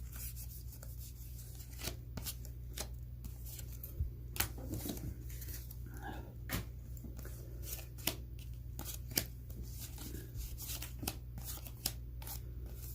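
Comet trading cards get handled and sorted with repeated dry flicks, rubs and soft slaps of card stock, irregular and close, under a low steady hum with no talking.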